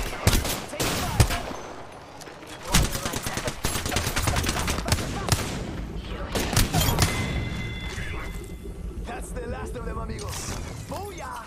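Dense gunfire in the video game Apex Legends, rapid automatic bursts and cracks layered over game effects and mechanical clicks, loud and continuous throughout, with voices heard in the mix.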